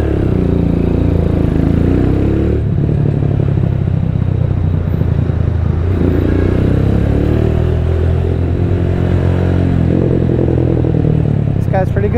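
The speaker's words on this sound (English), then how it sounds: "Yeah, I think it sounds good. I don't think it needs a silencer after this muffler." Motorcycle exhaust fitted with an Orion muffler, a steady low engine rumble running throughout at close range, loud and continuous with slight shifts in tone.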